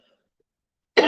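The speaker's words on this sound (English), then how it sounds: "I'm sorry about the cough." After near silence, a single sharp cough bursts out loudly and close at the very end.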